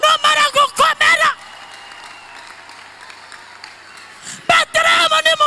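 A church congregation breaks into sustained applause for God during a lively worship service, a steady wash of clapping heard between bursts of a preacher's loud speech at the start and end.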